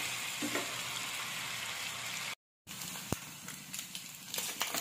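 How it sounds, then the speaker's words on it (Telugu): Something frying in oil in a pan, a dense continuous sizzle close up with a brief dropout midway and a few small clicks after, no talking. "ఆయిల్ వేసుకున్నాను. దీన్ని ఒక 5 నిమిషాల పాటు ఫ్రై చేసుకున్నాం."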